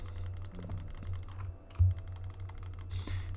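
Rapid clicking and key taps at a computer during a modded Minecraft session, a quick uneven burst of close, crisp clicks over a low steady hum, with one louder thump partway through and no talking.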